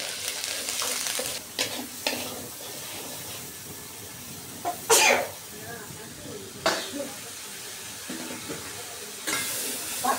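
Onion garlic paste frying with green beans in a pan, a quiet sizzle broken by several sharp scraping stir strokes and hissing bursts, close by with talking at times.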